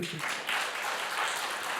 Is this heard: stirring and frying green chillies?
no